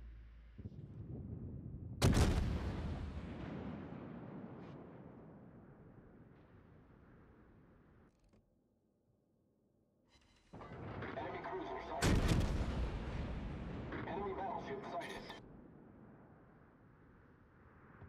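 Naval guns of the cruiser Wichita in World of Warships fire two heavy booming salvos several seconds apart, each a loud sharp blast that rumbles away slowly.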